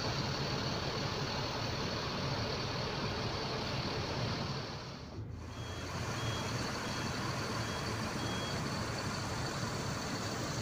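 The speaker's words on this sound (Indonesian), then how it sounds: "Kendaraan besar semua masuk di sini di pagi hari ini." Large buses and trucks manoeuvre at the busy Simpang Raya roadside restaurant in Bayung Lencir, Jambi, a steady engine rumble under a thin, repeated reversing beep, with no voices.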